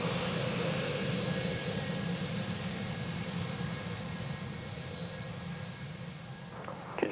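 An airliner takes off from runway 03 at Perth, a steady, far-off engine roar that holds evenly for several seconds with no voices.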